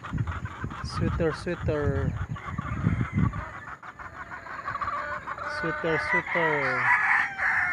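Chickens cluck and a rooster crows in a backyard farm, sharp repeated calls rising and falling close by, mixed with people talking.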